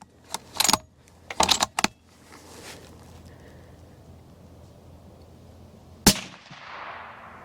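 A straight wall cartridge rifle fires a single sharp shot over a chronograph at 15 feet, a sudden crack with a brief fading tail, coming after a few rattling, jangling handling noises and a quiet pause.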